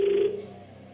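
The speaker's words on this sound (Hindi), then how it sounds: "इनको फोन लगाया जाए।" A single short electronic telephone dialing tone on the game show Kaun Banega Crorepati sounds clearly, then fades away into quiet.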